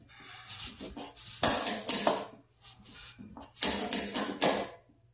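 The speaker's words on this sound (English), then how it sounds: "I'm going to tighten the back nut back, just to make sure" A wrench tightens the back nut on a gas ball valve, making two close clusters of sharp metallic clicks and scraping clanks separated by a short pause.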